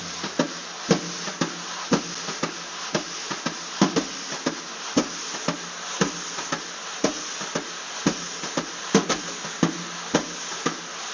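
Drum brushes swept and tapped on a snare drum, a soft continuous swish punctuated by regular light accents in a steady rhythm, played alone and fairly close.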